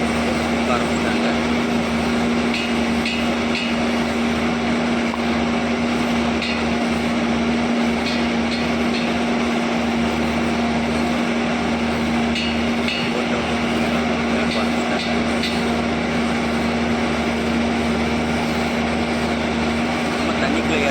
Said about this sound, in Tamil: எல்லாமே மெஷின் தான், ட்ரெயின் மூலமாக தான் கொடுக்குறாங்க.